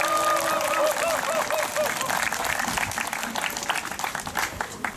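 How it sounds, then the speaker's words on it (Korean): An outdoor crowd at a protest rally applauds steadily, a dense wash of clapping that carries on for several seconds while a voice speaks over it. "박수 칩시다."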